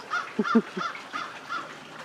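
A crow cawing nearby, a few harsh raspy calls in a short cluster followed by fainter caws, heard alone in an outdoor setting.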